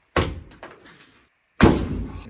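The door of a VW T2 bus with a newly fitted A-pillar is worked open and shut in two loud metallic thuds and clunks, a rattling latch between them, close up and with no talk.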